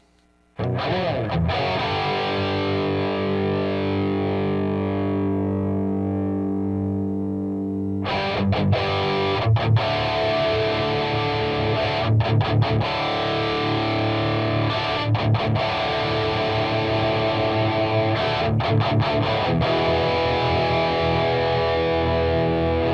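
Loud, heavily distorted electric guitar through a Headrush Prime amp modeler clone plays sustained chords and choppy palm-muted riffs, with brief gaps between phrases, no voices.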